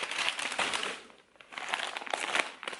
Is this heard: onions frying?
no